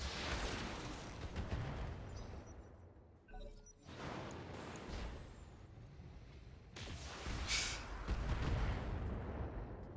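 Tank gunfire and heavy booming shots aimed at an enemy Panther tank in a Flashpoint career war game, loud blasts recurring over about ten seconds with rumbling battle noise between them.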